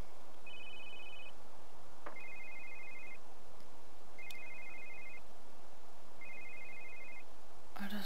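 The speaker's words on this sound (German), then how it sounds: "das Telefon geht mir so auf den Sack" A telephone in the life-simulation game The Sims 3 rings four times in evenly spaced electronic trills, each about a second long, clear and alone against a quiet background.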